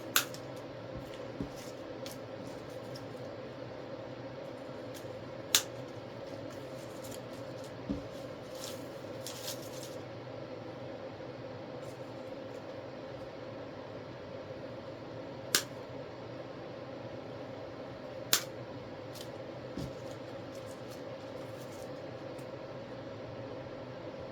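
Scissors snip through silk flower stems in a quiet room, a handful of crisp isolated cuts spaced several seconds apart over a steady low hum.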